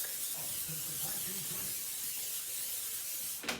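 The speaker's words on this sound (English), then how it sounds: "You gotta spray the pan well so it doesn't stick." Cooking oil spray on an air fryer pan, before frying chicken: a steady close hiss running throughout, with a person talking faintly underneath and a brief louder burst at the end.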